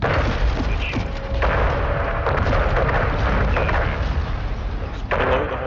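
Heavy gunfire and explosions in the Modern Warfare 2 campaign, with 25 millimeter cannon rounds hitting around a gas station while cartel vehicles approach; a loud, continuous roar of booms and shots with no break.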